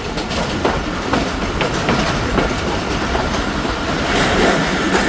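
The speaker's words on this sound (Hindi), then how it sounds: "Taxila cantt junction railway station पास हो रही है" The Khyber Mail rolls through Taxila Cantt Junction station, a loud continuous roar with steady clickety-clack of wheels over rail joints, heard from inside the moving train with no voices.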